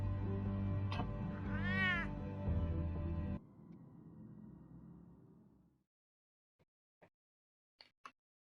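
A cat meows in the Batman video game, one drawn-out rising and falling cry over a loud steady game soundtrack, which then fades to near silence broken by a few faint clicks.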